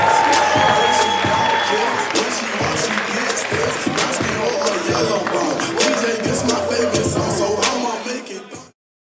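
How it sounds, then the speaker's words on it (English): A crowd at a school signing day gives a round of applause, dense clapping and some cheering continuing for several seconds under a speaking voice before cutting off abruptly. "Let's give one more round of applause to our signees."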